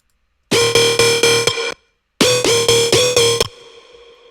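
Synth part from an electronic dance track played without pitch bends, two bursts of punchy, bright chord stabs in a repeating rhythm separated by a short gap, loud and close, closing on a decaying tail.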